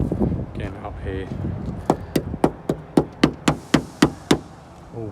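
A screwdriver taps the bodywork of a 1974 Pontiac Le Mans under restoration: about ten sharp, evenly spaced knocks, close and loud, following a moment of talk.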